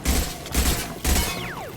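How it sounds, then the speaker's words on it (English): Gunfire in the video game Mass Effect 2 comes in three loud, booming bursts, each about half a second long, followed by a falling whine. "Oh, Garrus, why are you shooting?"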